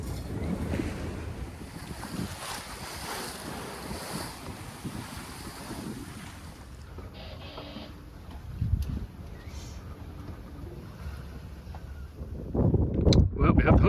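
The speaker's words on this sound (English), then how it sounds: "So today we're underway and under sail." A sailboat under sail at sea, with steady wind buffeting the microphone and continuous wash of waves against the hull, growing louder and gustier toward the end.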